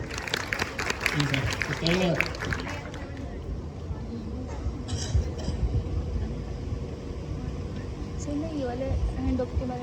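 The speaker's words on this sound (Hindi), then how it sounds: "एक बार जोरदार तालियां अपने लिए बजाओ।" A class of students applauds, a burst of clapping in the first few seconds that fades into chatter and voices in the room.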